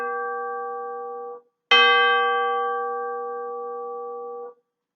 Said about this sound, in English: The plastic mallet comes with two sides, a hard side and a side that's covered with rubber to soften the tone.